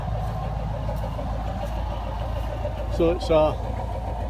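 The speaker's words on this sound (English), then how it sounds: "have a Massey Ferguson 390 four-wheel drive with a shuttle gearbox" A Massey Ferguson 390 four-wheel-drive tractor with a shuttle gearbox runs steadily at a low, even idle throughout, with a brief voice speaking near the end over the engine.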